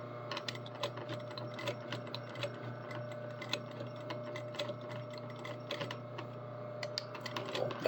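A sewing machine backstitches a jeans zipper fly, a fast rapid clatter of needle strokes in short bursts over a steady motor hum, close and alone.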